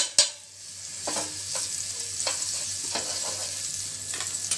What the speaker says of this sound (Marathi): हा फ्रँकीचा रोल आहे तो भाजून घेणार आहे.